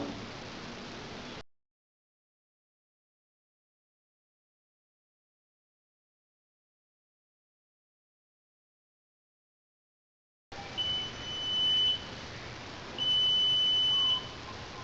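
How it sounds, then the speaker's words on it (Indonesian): An electronic medicine reminder alarm beeps in short high bursts, with a couple of longer steady tones, over faint background hiss after a stretch of silence. "Pada kondisi alarm on seperti ini, untuk mematikan alarm cukup menekan tombol pada bagian atas alat."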